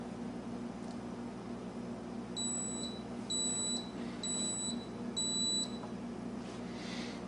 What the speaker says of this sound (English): An alarm will sound at the selected time, 15 minutes for this example.